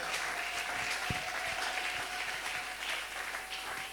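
Church congregation clapping and cheering in praise of God during a French-language service, sustained dense applause from a crowd with a few louder claps standing out.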